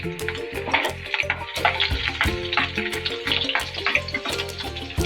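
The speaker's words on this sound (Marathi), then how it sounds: "तर बघा मी आता तडका द्यायला सुरुवात केलेली आहे" Garlic and spices crackling and sizzling in hot oil for a tadka for a spring-onion vegetable dish, a busy continuous spatter with rhythmic stirring scrapes close by.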